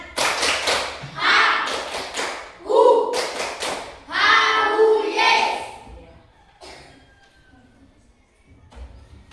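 A group claps in a rhythmic patterned cheer during a classroom training session, short bursts of claps broken by pauses, with voices chanting along and quieter talk as it fades.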